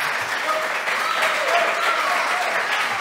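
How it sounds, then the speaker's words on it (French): An audience claps steadily for about three seconds, a dense close patter of applause at even loudness, with a voice speaking faintly underneath. "On peut l'applaudir André."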